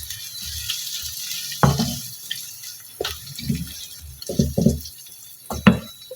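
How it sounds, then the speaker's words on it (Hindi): Spinach goes into a pan of frying onions, setting off bursts of crackling sizzle with rustling and scraping in between, fairly close and uneven. "पालक इसमें डालूंगी मैं"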